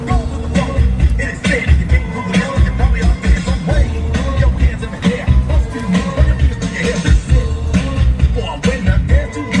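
Loud, dense pop music with a driving beat and bass plays continuously, a song blasted through a speaker on a dock in Seattle.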